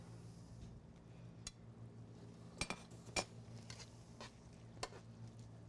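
Metal tongs clink and scrape against a bowl while soba noodles with eggplant and miso are served, in a few sharp, quiet taps spread over a low kitchen hum.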